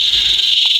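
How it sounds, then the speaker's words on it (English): Cicadas buzz in hot Queensland weather, a steady loud high-pitched drone that holds without a break, with a faint low rumble underneath. "It's the cicadas or cicadas telling us it's hot."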